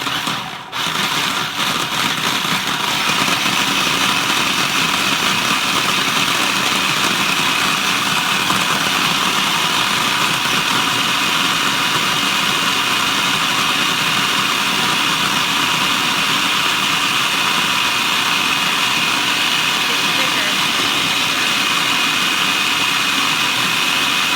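Food processor chopping dates into date paste, a loud continuous whirring motor that holds steady for the whole stretch without pauses or talk.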